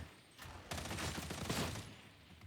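An automatic weapon is hip-fired in Warhammer 40K: Darktide as a Veteran assault build. A rapid, loud burst lasts about a second in the middle of a short stretch of quieter game ambience.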